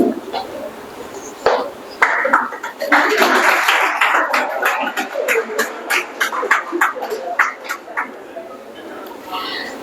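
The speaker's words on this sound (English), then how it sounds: "A round of applause for him as well." An audience claps at a community gathering at an agiary, with bursts of applause that swell and then fade into scattered claps, mixed with voices.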